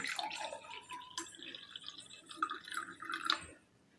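Cold water poured into a glass while making chilled sabja (basil seed) sherbet: a few seconds of close, splashy trickling and dripping with no talk, fading out near the end.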